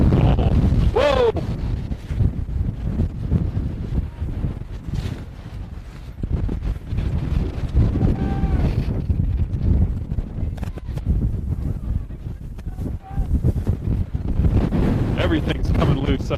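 Strong wind buffets the microphone with constant loud rumbling and roaring gusts at an outdoor sports game viewed from a high press box, with a voice speaking faintly under the noise.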